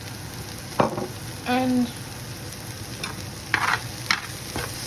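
Ginger fries in a non-stick pot with a constant soft sizzle. A spoon stirs and scrapes it in several short bursts, close up, and one word is spoken briefly.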